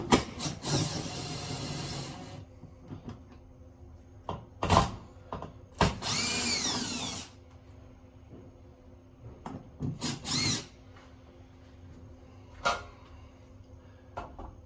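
A power drill backs screws out of a bathroom vanity light mount, with several short whirring bursts between pauses, some longer runs, and light scraping and handling noises up close.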